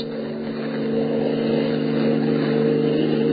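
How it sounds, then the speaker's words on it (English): A car motor in a radio drama sound effect, a steady droning engine hum that slowly swells louder as it approaches, with no voices over it. "His keen hearing detects an approaching motor"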